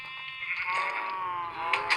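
Sheep bleating in the Minecraft video game, several wavering bleats over a quiet background, with a brief soft extra bleat near the end and no speech.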